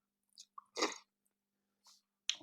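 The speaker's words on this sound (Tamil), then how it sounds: "பச்சை மிளகாய் தான் வந்து எண்ணெயில் பொரிச்சிருக்கிறேன். ஸோ அப்படியே கடிச்சு பார்க்கலாம்." Biting into and chewing a green chili fried in oil, heard as a few close, crisp crunches and wet chews spaced apart, with short quiet gaps between bites.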